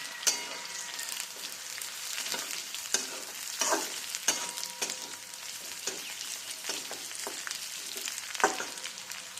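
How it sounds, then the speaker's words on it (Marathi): Garlic and chillies sizzle in a pan while crushed peanuts are stirred in. The frying crackles steadily, broken by repeated spoon scrapes and clinks at close range. "लसूण मिरची छान भाजत आली की त्यात आपण शेंगदाण्याचा कूट टाकू।"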